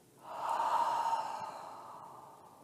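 One slow, deep breath let out through the nose during a yoga breathing exercise, rising smoothly and then fading gently over a couple of seconds, close and alone.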